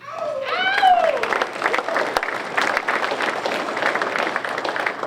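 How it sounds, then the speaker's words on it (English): Loud, sustained applause from an audience at a high school athletic hall of fame induction ceremony honoring alumni, dense clapping filling the room, with a brief whoop near the start. "We have a round of applause for all the alumni Hall of Famers."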